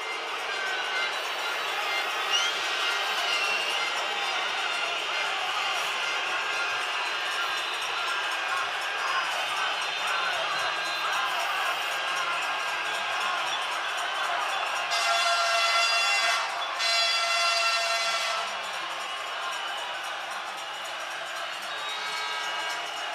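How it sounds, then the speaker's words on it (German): A large outdoor crowd at a farmers' protest rally applauds and cheers for a federal finance minister, a continuous distant wash of clapping and whistles that swells briefly near the end. "bitte ich um einen herzlichen Applaus und ein herzliches Willkommen für den Bundesminister für Finanzen"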